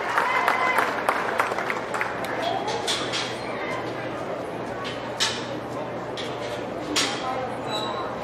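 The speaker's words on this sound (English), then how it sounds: "Give this young man a good round of applause" Audience applause at a county fair swine show after a Landrace barrow class win, scattered claps from a small crowd, with the sound of animals and voices mixed underneath.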